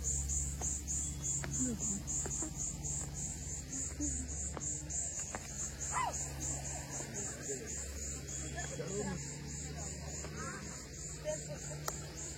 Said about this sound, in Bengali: চারিদিক থেকে কিন্তু মারাত্মক ঝিঝি পোকা ডাকছে।